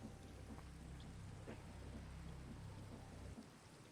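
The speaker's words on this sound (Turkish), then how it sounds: "Yağmur yağıyor bir de." Rain falls in the Minecraft video game as a faint, steady patter and hiss, with a low rumble underneath that cuts off near the end. No voices are heard.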